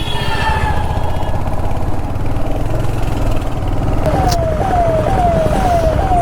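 Vehicles stuck in a traffic jam keep up a steady, close engine drone, and a repeating rising tonal honk or chirp sounds several times near the end.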